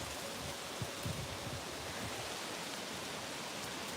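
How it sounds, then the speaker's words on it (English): Wind gusting outdoors and rustling leaves just before rain, a steady broad whooshing roar with soft swells and faint low rumbles throughout, no voices. "Y'all hear that wind?"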